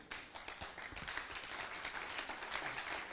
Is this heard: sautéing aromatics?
no